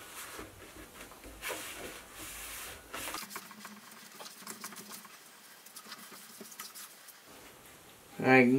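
Brake cleaner sprays from an aerosol can onto the crankshaft journals of an Oldsmobile small block engine, a close, steady hiss lasting several seconds that stops abruptly, followed by a brief clatter.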